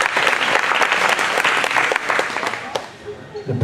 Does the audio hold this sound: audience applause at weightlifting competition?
yes